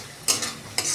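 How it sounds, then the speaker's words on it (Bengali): A spice paste for mustard hilsa fries in a pan, with two short, close bursts of sizzle and stirring over a low background hum. "হালকা করে মশলাটা ভাজা ভাজা হওয়ার পর সামান্য একটু জল দিলাম মশলাটা একটু কষানোর জন্য"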